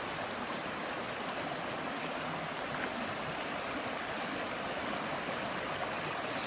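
A creek flowing steadily outdoors during a winter creek walk, a constant broadband rush of moving water, fairly soft and unchanging, with no voices.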